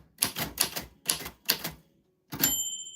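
Typewriter keys strike in quick, crisp bursts, four separate clusters of clacking followed by a final burst ending in a bright ringing bell tone, close and fairly quiet.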